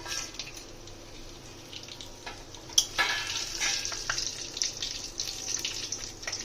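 Whole garam masala frying in ghee in a pan after cashews and raisins have been fried for basanti polao, a soft steady sizzle with light stirring and a few clinks, fairly faint and alone without talk.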